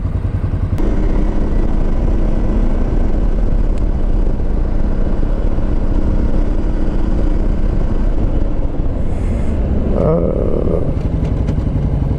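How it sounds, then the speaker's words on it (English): An Italian purpose-built adventure motorcycle, an Africa Twin rival, slows under heavy braking, its engine note loud and close as it winds down with some clatter near the end, and no voices. "Yo, that was heavy braking."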